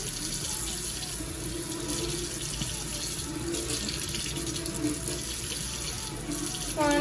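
Tap water runs steadily into a sink to wet a solid makeup brush cleaner, a continuous close hiss and splash throughout with a brief louder burst at the end.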